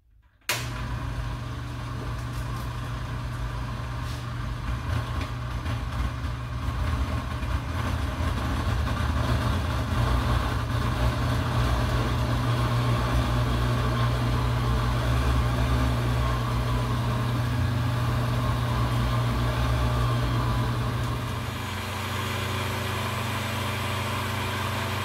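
An electric mixer beats Cuban bocadito spread made with Spam, a continuous motor whir that holds steady and close for over twenty seconds before dropping slightly in pitch near the end.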